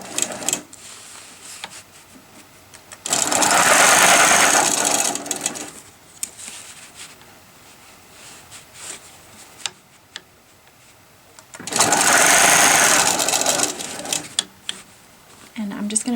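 A longarm quilting machine stitches a quilt border in two loud sustained bursts of rapid mechanical whirring, with quieter stretches between where the machine rests or runs faintly.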